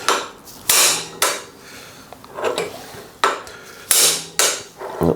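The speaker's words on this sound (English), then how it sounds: "And you just hit it on the end again with a hammer" A hammer strikes the end of a tool again and again to drive out a bearing cup in a workshop, giving about seven sharp, loud metallic clanks spaced irregularly, each ringing briefly before the next blow.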